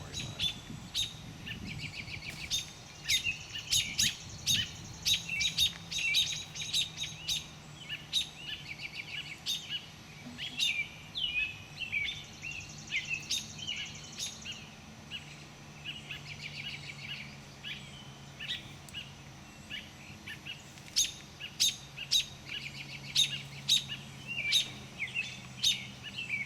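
Baby birds chirp from a nest under attack by a snake: many short, high, repeated tweets and cheeps in irregular bursts, fairly close, over a low outdoor background hum.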